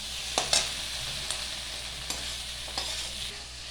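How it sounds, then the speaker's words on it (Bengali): Dried fish being stir-fried with spices in a pan, a soft steady sizzle broken by a few sharp scraping strokes of a spoon, close and quiet with no voices. "শুকনো মাছগুলো দিয়ে দিলাম, আগের থেকে ভাজা করে রাখেন। এখন খুব ভালো করে কষাবো"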